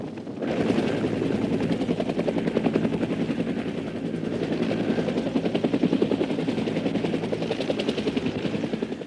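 A small helicopter flies steadily nearby, its fast chopping rotor pulse loud and continuous throughout with no voices.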